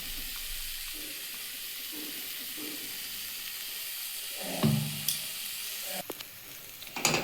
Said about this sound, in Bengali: দেখুন সর্ষে পোস্তটা দিয়ে দিয়েছি এবার এটা একটু আর একটু ভালো করে ভেজে নেবো